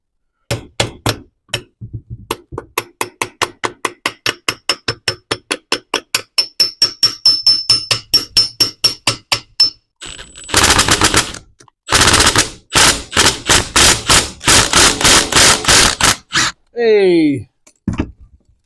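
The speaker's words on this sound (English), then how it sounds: "That's the hardest setting on my impact drill." An impact drill on its hardest setting hammers a bolt on a KFX450R engine in rapid, loud bursts, repeating in fast rattling runs, pausing and restarting several times, then a final short clatter.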